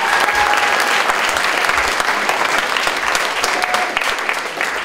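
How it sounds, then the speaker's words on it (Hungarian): Steady, dense applause from the audience at a student drama festival, honouring its participants, a loud uninterrupted wash of clapping filling the whole stretch. "Megérdemelnek a résztvevők is egy tapsot."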